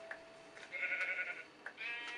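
Sheep bleating in Minecraft, a few short game-sound bleats with pauses between them, close and clear against a quiet background.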